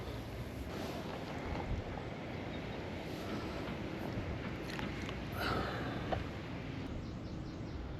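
Wind blows across an outdoor fishing pool, a continuous loud rumble and buffeting on the microphone with brief gusts.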